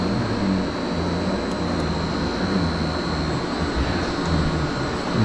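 A lathe spindle runs forward at 500 rpm while machining a universal heavy-duty snow hub, giving a steady, loud, continuous mechanical hum and whine with no breaks and no voices.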